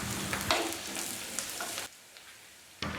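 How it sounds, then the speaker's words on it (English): Sliced onions and green chilli sauté gently in coconut oil for a Kerala-style pea curry, a close hissing sizzle with scraping stirs that drops to a faint simmer partway through before a brief stir returns. "sliced onions and a sliced green chilli and saute them gently"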